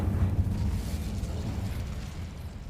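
Incendio fire spell cast in Hogwarts Legacy, a sustained low rumbling whoosh of flame that holds steady for about three seconds, moderately loud with no voices over it.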